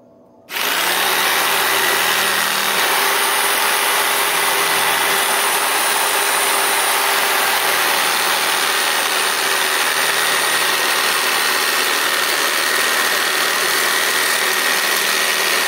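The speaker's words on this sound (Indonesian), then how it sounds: "Di sini saya akan coba gergaji kayu seperti ini ya kawan." A BENZ BZ-8089 electric jigsaw starts up and runs cutting wood with a steady, loud buzzing whine that holds unchanged throughout.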